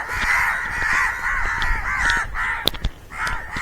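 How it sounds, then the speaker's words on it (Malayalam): Crows at a fish farm caw repeatedly in harsh, rhythmic bursts, fairly close and loud, with short gaps and a few sharper calls between the runs. "ഇവിടെ മുഴുവൻ കാക്കയാണ്,"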